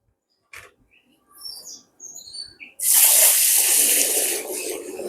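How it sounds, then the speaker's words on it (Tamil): Water poured from a big bucket onto ten kilos of raw rice set to soak, a loud broadband rushing pour that starts suddenly after a few quiet knocks and keeps going steadily to the end. "ஒரு பெரிய வாளியால தண்ணி விட்டுக்கொள்கிறேன்"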